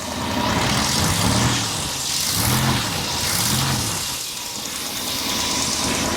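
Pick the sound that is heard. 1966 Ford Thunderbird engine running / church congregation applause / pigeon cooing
1966 Ford Thunderbird engine running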